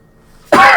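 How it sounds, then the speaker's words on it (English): A single harsh cough from someone with a cold bursts out abruptly after near silence, loud and close. "This cough has not been pleasant."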